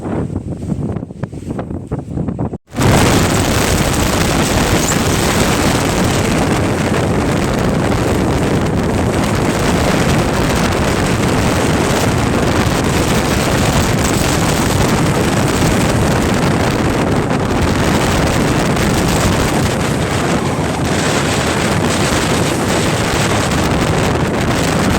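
Strong wind buffets the microphone on a steep hill climb, a loud, continuous roaring rush that starts abruptly after a quieter opening and keeps going without a break.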